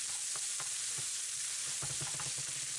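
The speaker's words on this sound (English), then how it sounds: "And let these saute for at least a minute or so that they can get soft." Garlic, tomato and onion sautéing in a pan: a steady broadband sizzle with soft scraping stirs that become more frequent toward the end, close and moderately loud, with no voices.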